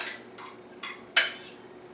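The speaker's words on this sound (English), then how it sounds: "And you always fluff your rice with a fork." A fork fluffing cooked rice in a dish makes a few light metallic scrapes and clinks, one sharper tap among them, close and quiet, with no voices.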